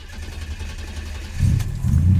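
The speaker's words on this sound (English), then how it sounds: "So now that I start the car," A Buick Grand National fitted with a TR6 ignition and a slightly retarded cam sensor fires up partway through, its engine catching with a deep low rumble that swells and settles into a loud, close idle.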